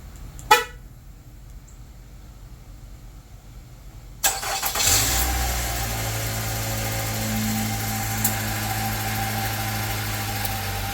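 A 2018 Nissan Altima engine, just fitted with a new crankshaft sensor, starts after a short sharp click and a quiet pause, then settles into a steady, fairly loud idle that hums on to the end.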